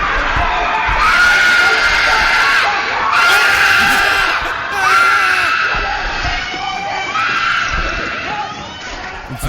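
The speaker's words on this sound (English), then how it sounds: "Listen to this little girl scream. She has the best scream." A little girl screaming in a movie scene: repeated shrill, piercing high-pitched screams in several loud bursts, each a few seconds long, with brief gaps between them.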